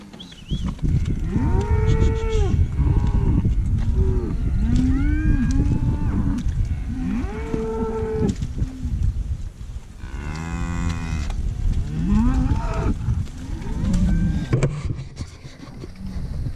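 A herd of skinny cattle being drafted out moos continuously, with many loud, overlapping, drawn-out calls both near and farther off, and no talking.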